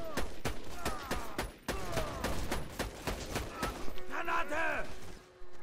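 A new sniper rifle firing in Borderlands 2, a run of sharp, loud cracking shots at a rapid, fairly even pace with ringing mechanical tails, followed by a brief whirring, warbling game effect near the end.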